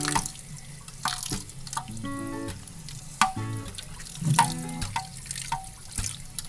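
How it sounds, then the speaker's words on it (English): Boiled mooli radish washed under a cold kitchen tap, with running water splashing and dripping irregularly, punctuated by clinks and handling noises close by. "So nicely wash it with cold water after you boil it."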